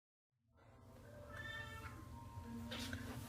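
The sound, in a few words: Siamese cat in the litter box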